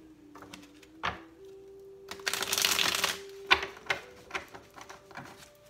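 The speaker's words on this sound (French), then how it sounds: "je brasse le jeu" A deck of tarot cards being shuffled by hand, with a dense riffling burst in the middle and scattered papery flicks and taps before and after, close and fairly quiet.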